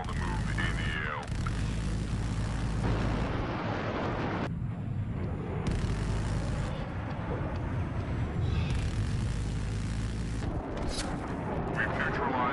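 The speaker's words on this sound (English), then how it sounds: "Millimeter artillery strike is commencing on the comms tower to the north" Artillery strike explosions pound a comms tower in a military video game, heavy rumbling blasts and booms layered continuously over battlefield noise, with someone talking throughout.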